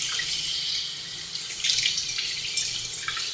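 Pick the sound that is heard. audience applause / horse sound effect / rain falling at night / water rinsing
water rinsing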